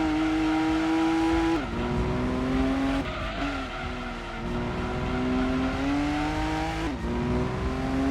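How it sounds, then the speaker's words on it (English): A V6 car fitted with a muffler races in Gran Turismo 2, its engine droning loudly and climbing in pitch through the gears with sharp drops at each upshift, tires squealing through corners. "I really like how this car sounds after applying the muffler."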